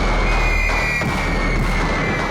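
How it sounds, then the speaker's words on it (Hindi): Loud, dense gunfire-like blast with a continuous roaring tail and no clear separate shots, a sound effect in a Hindi TV crime drama, filling the whole moment. "तभी गोली चलने की आवाज सुनी हमने"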